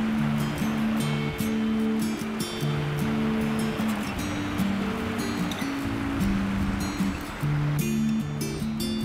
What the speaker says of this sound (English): here is a bridge, where the water is actually flowing above it